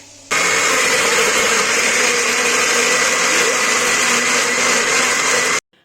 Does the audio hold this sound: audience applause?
no